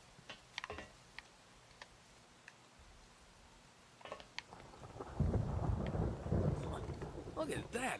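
Pouring rain and rolling thunder in the video game Vampire Rain, with scattered ticks and drips at first, then a heavy low rumble and dense downpour swelling in the second half, fairly faint overall.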